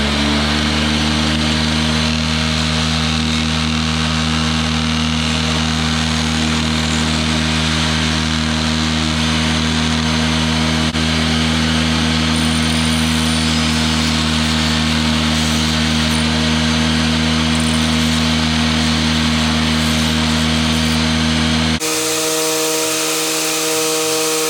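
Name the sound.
power sanding old metal saw blades with 80 grit sandpaper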